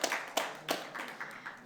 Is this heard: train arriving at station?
no